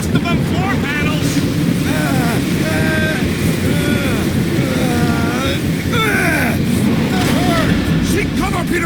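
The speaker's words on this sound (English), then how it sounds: "Your feeble body cannot overpower such tremendous gusts!" Tremendous wind gusts in the Guardians of the Galaxy video game roar as a constant, loud, rushing wash of noise beneath voices speaking throughout.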